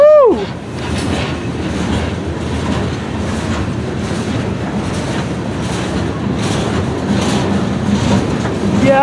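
A CSX freight train led by locomotive 5426, hauling gondolas loaded with steel rods and rebar, rumbles past close by, loud and steady, with faint rhythmic clacking and a brief horn-like tone at the start.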